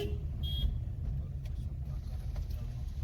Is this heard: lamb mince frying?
no